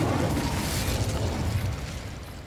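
A whooshing, roaring burst of flame from the Incendio fire spell in Hogwarts Legacy, loud and dense at first, then slowly tapering off as it fades.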